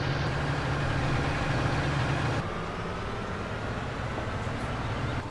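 A tractor engine in Farming Simulator 19 idles and runs at a steady low rumble, with its tone shifting slightly partway through and no talk over it.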